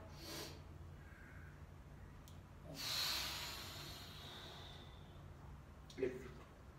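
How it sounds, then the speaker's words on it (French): A person draws a breath, with a soft hissing inhalation rising near the middle, heard quietly against low background noise, with a faint earlier breath and a small thump afterward. "Je respire une fois."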